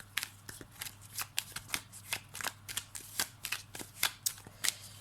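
Tarot cards are shuffled for a card reading: a rapid series of crisp, close riffling snaps and slaps in an uneven rhythm, with a low steady hum underneath and no talking.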